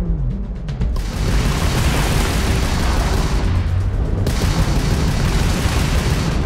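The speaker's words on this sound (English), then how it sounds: "we can lock in to fire a homing missile" Homing missile launched at an enemy ship in the space game Starfield, a loud sustained roaring blast that starts abruptly and keeps a dense rumbling wash throughout.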